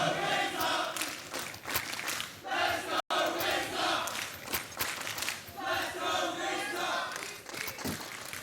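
A large esports crowd at a Counter-Strike match in Melbourne roars and cheers continuously, with shouting voices blending into a dense, loud wall of noise.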